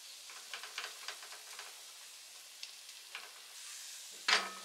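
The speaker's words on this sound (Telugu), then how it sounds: "కారం కూడా కొంచెం వేగనివ్వండి అండి" Chili powder sizzles in hot oil in a pan while chicken biryani is cooked, with soft stirring scrapes over a steady frying hiss and a sharp louder sizzle burst near the end.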